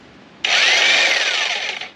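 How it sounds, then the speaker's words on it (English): A VEVOR demolition jack hammer breaking hard rock, starting abruptly and running as a loud, dense, continuous hammering roar for about a second and a half before cutting off, with no voices. "push up against the rock first before it starts hammering"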